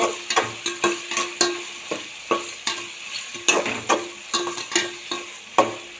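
Tomatoes sautéing with a little salt in a pan for chicken gravy, with a soft sizzle under repeated sharp scrapes and knocks of a spoon against the pan in an uneven rhythm, close and clear.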